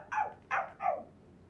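A dog barks three times in quick succession, sharp close yaps evenly spaced, each followed by a brief pause, then quiet.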